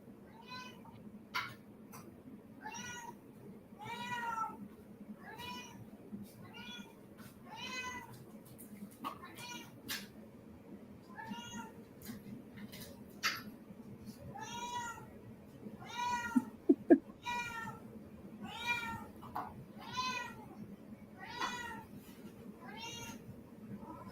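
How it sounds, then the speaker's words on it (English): A cat meows repeatedly in short, rising calls spread across the whole stretch, fairly close, with a few soft clicks and light rustling. "Are you doing your meows?"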